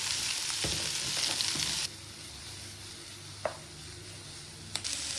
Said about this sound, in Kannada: ಈಗ ಆನಿಯನ್ ಹಾಕಿ ಫ್ರೈ ಮಾಡ್ಕೊಳ್ಳೋಣ